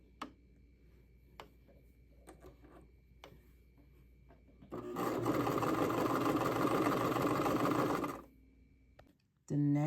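Sewing machine running zigzag and straight stitches on a blouse's arm openings, with quiet handling clicks first and then a loud, steady whirring run of about three seconds that stops abruptly, followed by a brief restart at the end.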